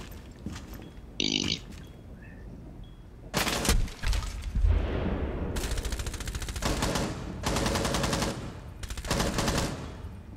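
Rainbow Six Siege gunfire: bursts of rapid automatic shots and sharp single reports, some metallic, loud and close with short gaps between volleys.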